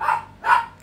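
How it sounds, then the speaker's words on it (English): Two short barks from pet dogs in a home, fairly faint and slightly distant, spaced about half a second apart. "Sorry about my dogs, if you can hear them."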